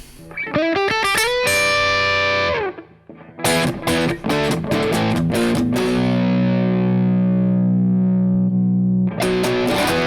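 Distorted Kiesel Osiris electric guitar through a purple preamp in lead mode plays a lead line with sustained, overdriven notes and brief pauses between phrases, loud and close.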